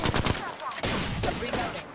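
Gunfire in the Apex Legends video game: a quick burst of rapid shots, then several more sharp cracks, loud and close over a short, busy stretch.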